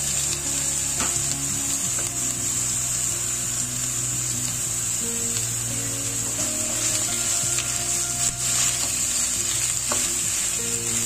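Chopped onions fry in a pan for Kerala-style duck curry, a steady loud sizzle running throughout with scraping stir strokes and low clatter, no voices.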